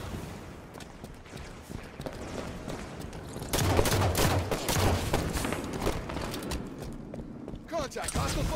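Gunfire from a Halo 5 Slayer multiplayer match, with bursts of shots and mechanical clatter that grow louder and denser partway through, mixed with game sounds and a voice speaking over the action.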